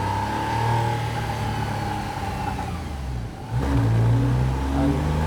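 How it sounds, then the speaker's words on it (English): Porsche Carrera PDK engine in Sport Plus mode, a steady mid-pitched drone that dips briefly near the middle, then swells into a louder, deeper rev, close and continuous without any talking. "as you warm up this engine, it just gets better and better"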